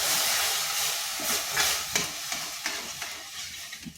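Water poured into lightly fried semolina in a hot pan sets off a loud hiss and sizzle that fades over a few seconds, with a spoon scraping and stirring in quick irregular strokes.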